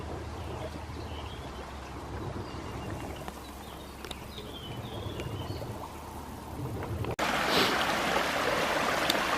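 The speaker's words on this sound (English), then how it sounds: "As you can see, it's a stream that's coming down" A small stream of water emerging from the ground and running downhill outdoors, giving a steady broadband rush that swells louder over the last couple of seconds, with no voices.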